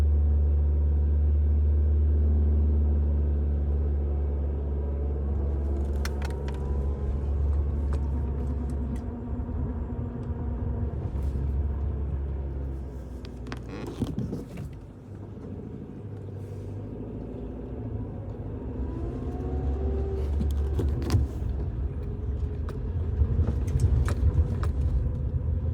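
A car rolling slowly down a driveway, heard from inside the cabin as a steady low engine and road rumble with occasional light rattles and clicks.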